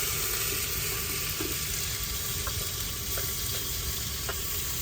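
Onions and ginger-garlic paste frying in hot oil for mutton sambar, a steady close sizzle with faint clinks of stirring, no voices.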